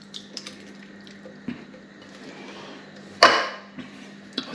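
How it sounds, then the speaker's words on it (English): Chopped tomatoes drop into a simmering bolognese sauce with a wet, squishy plop, followed by soft sloshing and light clinks over a low background hum. "I'm even going to add some chopped tomatoes to that."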